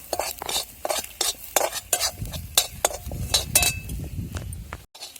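Onions are stirred while frying in a pan, with a rhythmic series of spatula scrapes and clinks against the metal over a continuous sizzle. The sounds are close and fairly loud.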